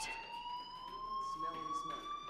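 Fire alarm in the video game Life Is Strange, a steady high electronic tone holding over quiet background murmur, moderately faint and continuous.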